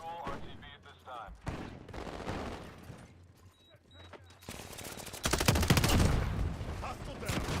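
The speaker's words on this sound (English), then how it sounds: "Taking small arms fire." Bursts of automatic small-arms fire from a Modern Warfare video game battle, crackling shots in short volleys that grow louder and denser toward the end, with brief voice chatter in places.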